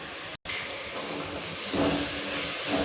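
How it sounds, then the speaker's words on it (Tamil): Onions and tomatoes sautéing in a pan for an egg masala gravy give a steady, fairly loud hiss throughout, broken only by a short silent gap near the start. "வெங்காயம் தக்காளியை நல்லா வதக்கி எடுத்துடலாம்."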